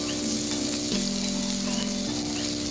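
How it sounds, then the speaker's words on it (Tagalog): Aromatics for chicken batchoy stir-fry in a hot pan with a steady close sizzle and crackle, a brief scraping stir at the start and end, and no voice over it. "paghalo-haluin lang hanggang sa maamoy mo na yung aroma na ating mga aromatics"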